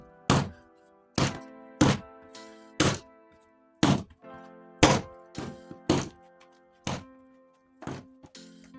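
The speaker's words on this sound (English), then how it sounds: "what I'm going to do now is just to be hitting it on the work surface like this" Dough slapped down hard onto a kitchen work surface, about a dozen loud, close thuds in an uneven rhythm with brief pauses between them.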